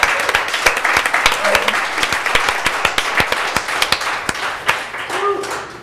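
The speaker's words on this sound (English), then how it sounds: "Give a round of applause" An audience claps and applauds for a business owner at a live talk event, a dense burst of hand claps with some whoops and voices mixed in, fairly close and sustained.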